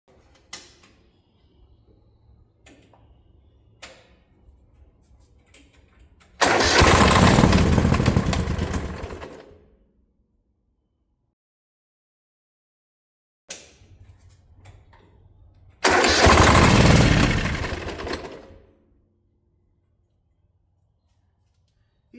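A Kohler Command 18 engine on a 1972 Gravely 816 tractor is cranked in two attempts, each a loud, rough, roughly three-second burst of engine noise that cuts off into near silence between tries.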